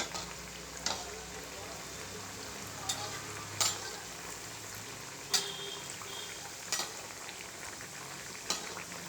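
Moong dal kachori frying in hot oil in a wide pan, a steady sizzle under occasional sharp clinks and stirring taps, with faint speech in the background.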